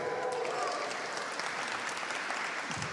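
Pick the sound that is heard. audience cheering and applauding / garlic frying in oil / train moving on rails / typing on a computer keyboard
audience cheering and applauding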